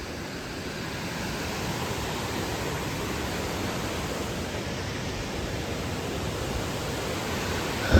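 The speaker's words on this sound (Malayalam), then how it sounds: "വെള്ളച്ചാട്ടം." Waterfall near Athirappilly roaring as a dense, steady rush of falling water, loud and unbroken throughout, with no voices.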